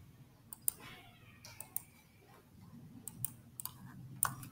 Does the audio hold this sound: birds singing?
no